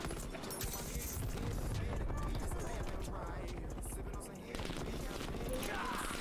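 Rapid AK-74 rifle bursts crackle through a Call of Duty Cold War match, dense overlapping gunfire running steadily under excited player chatter.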